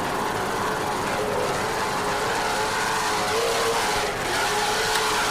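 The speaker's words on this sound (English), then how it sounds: "This is a 31-foot image catamaran powered by twin 550 horsepower KS&W inboards with Mercury outdrives" A 31-foot racing catamaran powered by twin 550 hp KS&W inboard engines with Mercury outdrives, a continuous loud engine roar with wind and water rush at an offshore powerboat race.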